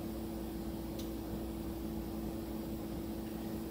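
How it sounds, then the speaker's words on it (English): A microwave oven runs with a steady, low electrical hum and faint fan whir, quiet and unchanging throughout, with no voices. "And throw it in the microwave for 3 minutes."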